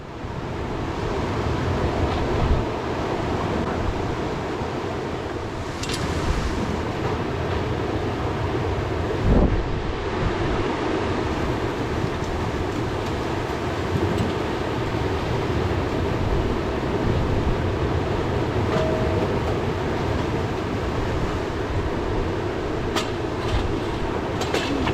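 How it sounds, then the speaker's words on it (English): The swift, glacier-fed Copper River rushes past steep banks where dip netters fish, a loud, constant broadband roar with wind buffeting the microphone and no voices. "the river is very, very swift"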